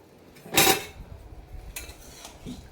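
Metal spice box being put away in a home kitchen, giving a sharp clattering clank followed by lighter tinny knocks and a faint later tap, close and alone.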